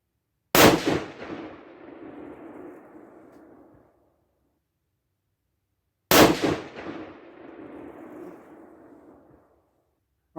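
Two sharp, loud 6.5 PRC rifle shots firing Hornady 140gr match loads, about five seconds apart, each a cracking blast followed by a long rolling echo that fades to silence outdoors.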